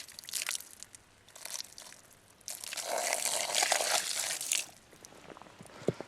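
Water is poured over smouldering campfire embers, a hissing, crackling gush that swells for a couple of seconds at close range and then fades, with scattered crunchy crackles before and after.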